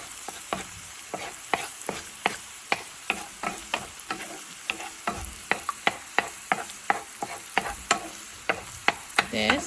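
Egg scrambling in a hot frying pan for homemade ramen, with steady sizzling under some two dozen sharp, regular scrapes and taps of a utensil against the pan, close and fairly loud, no talking.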